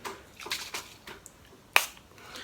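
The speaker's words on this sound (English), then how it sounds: "so I'm going to spray it with some setting spray" Makeup setting spray misted onto the face in several soft, short hissing bursts, one sharper spray standing out, quiet and close.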